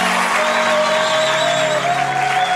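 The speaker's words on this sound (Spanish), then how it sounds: "Un aplauso para el transportador." A studio audience gives steady applause in tribute to transport workers on their day, at a comedy show in Spanish. It stays broad and continuous, with a tonal musical layer running beneath the clapping.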